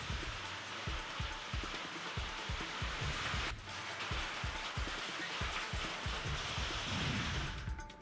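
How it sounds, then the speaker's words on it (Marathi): Heavy rain with hail during a storm in Chandrapur district hammers steadily on a surface, a dense continuous roar with repeated sharp impacts throughout. "चंद्रपूर जिल्ह्यात अनेक ठिकाणी वादळासह पावसानं हजेरी लावली आहे, तर काही ठिकाणी जोरदार गारपीट झाली आहे"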